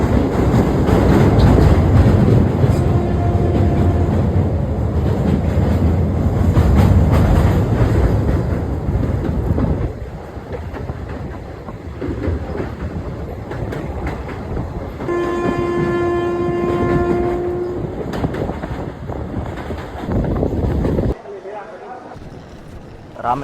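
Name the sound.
train crossing the Pamban sea bridge to Rameswaram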